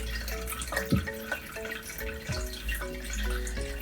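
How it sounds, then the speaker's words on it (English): Cloudy nigori sake strained through a coarse strainer, giving a steady wet trickle with scattered drips and small splashes, close and fairly loud with no talk. "Strain coarsely with a strainer."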